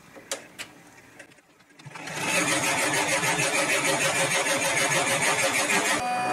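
An embroidery machine running a background quilting stitch on a Christmas flowers panel: after a brief pause it starts up and keeps a steady, fast, close mechanical whir with rapid even needle rhythm, loud and continuous with no talk.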